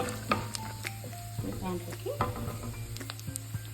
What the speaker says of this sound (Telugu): ఈ ఆయిల్ వేడైందండి కొద్దిగా జీలకర్ర వేసుకుందాం ఇప్పుడు పల్లీలు వేసేసుకుందాం ఇప్పుడు పల్లీలు కొద్దిగా ఫ్రై అయిందండి